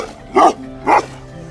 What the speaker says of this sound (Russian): Это уже собаки из Раницкого района.